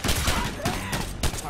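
Dense gunfire in the video game Ghost Recon 2: loud, overlapping bursts of shots rattle nonstop at close range.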